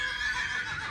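A single horse whinnying during a riding clinic, a brief high, wavering neigh heard clearly with no talking.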